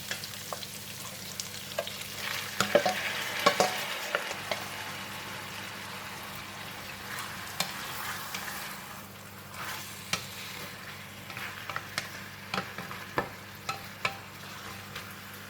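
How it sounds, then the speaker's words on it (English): Pork ribs dropped into a pan with softened onion, sizzling and frying steadily at moderate volume, with scattered clinks and stirring knocks over the continuous hiss. "Alright, onion is soft, and then I'm going to throw in the meat."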